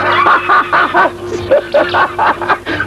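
A dog barks in a rapid, close run of short, harmonic yaps that come in two bursts with a brief pause between them, and nothing else is heard.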